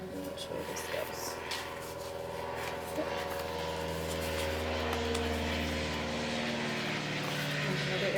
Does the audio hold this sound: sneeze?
no